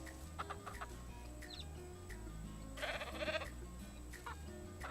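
Chickens clucking in the Ranch Simulator video game, a few faint clucks and bleat-like calls over a constant low game background hum, with a brief louder burst in the middle.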